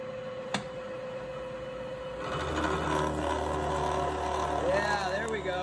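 A strong milling cutter takes a heavy cut on steel die plates for a hydraulic press, starting about two seconds in as a loud, steady machining drone with some ringing that persists to the end.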